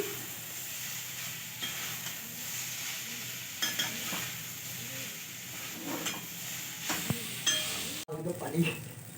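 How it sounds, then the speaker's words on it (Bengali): Boiled pasta being mixed into fried vegetables in a pan for masala pasta, with soft scraping stirs and a faint sizzle running steadily underneath, plus a few light clinks of utensil on pan. "এরপর পাস্তাগুলো দিয়ে আমি খুব ভালোভাবে ওর সাথে মিশিয়ে নিচ্ছি।"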